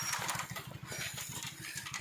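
A motorbike engine runs steadily up close, its low, rapid, even chugging pulsing without a break under a loud, hissy wash of wind and road noise.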